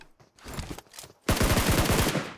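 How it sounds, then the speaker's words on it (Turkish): Automatic gunfire in the PUBG Mobile battle royale game: a few scattered shots, then a loud rapid burst of evenly spaced rounds, close and alone without talk. "Oradan gene silah sesleri duydum çünkü."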